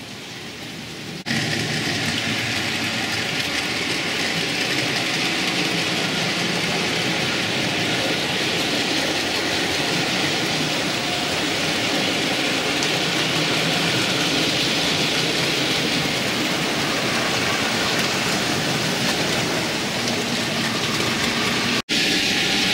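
Steady, continuous rumble and hiss of four model railway steam trains running along track, loud and unbroken throughout, with no talking.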